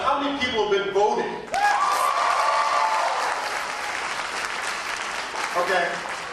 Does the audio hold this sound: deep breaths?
no